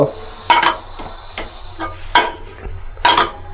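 Dried red chillies fried in a pan, heard as a few sharp scraping and clattering stirring strokes at uneven intervals over a soft, quiet sizzle.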